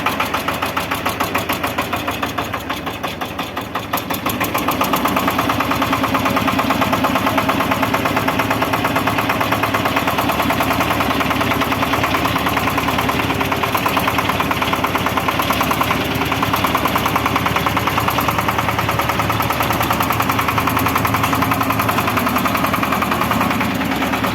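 A small Shifeng mini tractor engine runs loud and steady close by in low gear with four-wheel drive, a constant mechanical drone with a rapid knocking pulse throughout.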